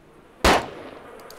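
A single sharp gunshot rings out in the video game DayZ, one loud close crack that decays quickly into quiet background.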